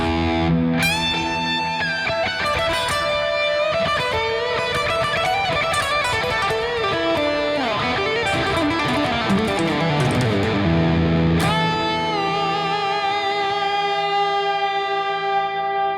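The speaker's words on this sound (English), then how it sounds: "we can throw a tube screamer distortion in front of that" A heavily distorted synth played through a Tube Screamer distortion pedal plays sustained chords and sweeping pitch bends, loud and continuous, with a gritty buzzing tone throughout.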